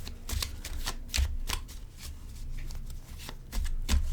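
A deck of playing cards is cut and riffle-shuffled up close, with a run of crisp flutters and soft taps between them. No one speaks.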